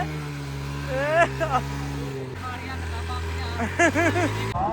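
An Activa scooter engine drones steadily nearby, its hum dropping in pitch partway through, while people talk over it.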